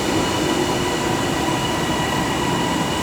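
Train 323237 pulls out of Liverpool Lime Street station, a steady dense rumble of wheels and motors with faint squeals under the station roof, continuous and fairly close with no talk.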